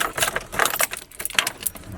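Several car keys jangle and clink together as the right one for a Chevrolet Silverado pickup is picked out, a close, bright rattling in short bursts.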